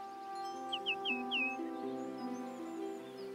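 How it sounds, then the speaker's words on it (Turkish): Small songbird, a nightingale, giving a short series of bright chirps and a thin whistled note, fairly clear against a sustained tonal music bed in a cartoon. "Bir bülbül."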